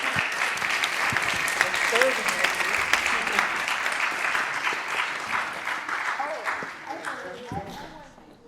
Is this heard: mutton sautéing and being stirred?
no